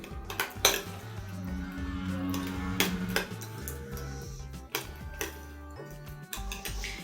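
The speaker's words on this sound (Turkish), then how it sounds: "Ve salçayı eziyorum." Tomato paste mashed with a little cooking oil in a bowl, giving steady clinking and scraping of a utensil against the dish, close and fairly loud, with sharper knocks scattered through.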